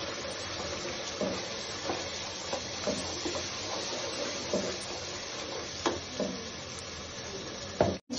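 Duck masala spices stirring in a hot pan, with steady close sizzling and frying hiss throughout and soft scraping strokes of a spoon at irregular intervals, no talking.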